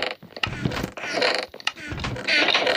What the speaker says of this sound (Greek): Να, άνοιξε αυτή την πόρτα, παιδιά.